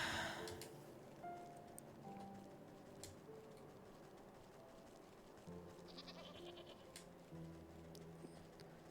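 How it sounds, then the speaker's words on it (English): A goat bleats in the video game Wytchwood, short calls set over quiet game ambience with faint clicks and soft musical tones. "Sorry, little Billy Goat Gruff."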